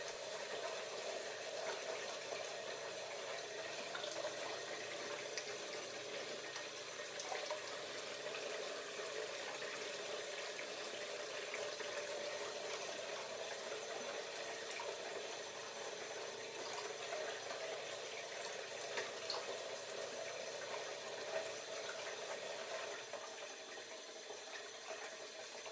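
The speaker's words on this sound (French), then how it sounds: "Augmentons le débit de la pompe" A water pump runs steadily in a lab demonstration while water flows, a constant, even rushing wash with no break and no voices.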